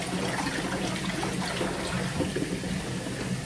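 Fresh hot water runs steadily to flush out a bicycle-parts ultrasonic cleaner, a continuous close trickle and splash that stays even throughout with no talking.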